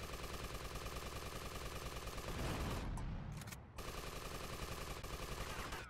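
Heavy automatic gunfire in GTA Vice City, a dense continuous fusillade of rapid shots that briefly drops out midway before resuming, loud and close with no talk.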